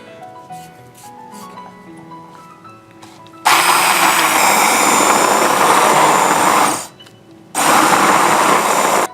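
Hand blender whirring through harissa hot chilli sauce in a small container, a loud steady motor roar that runs for several seconds, stops briefly, then starts again, after quieter background music at the start.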